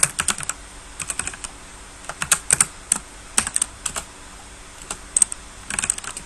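Python code being typed on a computer keyboard, crisp key clicks close to the mic in irregular bursts with brief pauses, one sharper clack now and then, and no voices.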